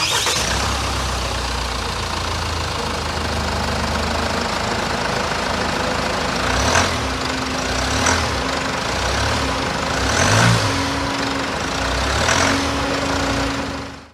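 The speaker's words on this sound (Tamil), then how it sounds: "வண்டி நான் உங்களுக்கு இப்போ ஸ்டார்ட் பண்ணி காட்டுறேன்" A Mahindra Thar Roxx MX5 diesel engine cranks and fires, then settles into a steady, refined idle with a low throbbing rhythm and a few soft revs, heard close up with no talking.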